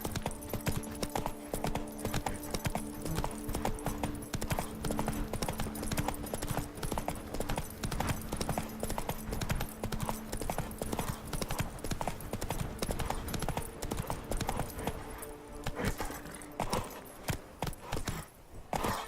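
Horse hooves clip-clop steadily and continuously in Witcher 3, a galloping rhythm close and loud over a constant game soundscape with a low hum and occasional faint voice.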